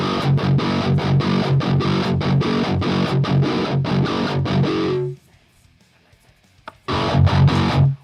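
Electric guitar played through the ATLAS amp sim with heavy distortion and the bite control on, loud chugging rhythmic chords that stop abruptly, a short near-silent gap, then the riff returns.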